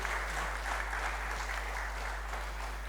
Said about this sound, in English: a round of applause once again for our panelists